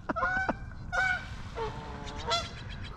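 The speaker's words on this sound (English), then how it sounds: "Oh, there's geese coming." Several geese honk loudly in repeated bursts at a shallow, lily-covered pond by a beaver dam, calls overlapping as the flock comes closer, with no talking.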